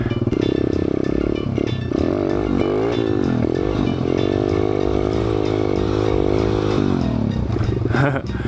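A Thumpstar 140cc dirt bike engine revs hard and steadily during wheelie practice, its loud buzzing drone rising and falling in pitch with throttle changes, close and continuous throughout.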